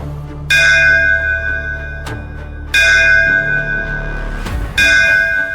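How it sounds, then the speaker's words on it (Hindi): An old wall clock's bell chimes loudly three times with long ringing tones, each strike lingering and overlapping the next over a low background hum. "12 मर्तबा घंटी बजी।"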